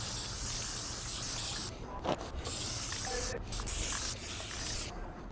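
A spray can lays a heavier second coat onto a Ford Maverick grill, a close, continuous hissing spray broken by a few short pauses between passes.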